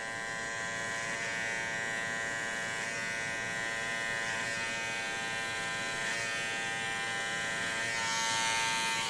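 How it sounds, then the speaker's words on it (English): Electric hair clipper buzzing steadily close by, used clipper-over-comb to even up the jawline while finishing a haircut; a continuous hum with no talk. "On the bottom, I'm going to use a light clipper over comb technique to just even up that"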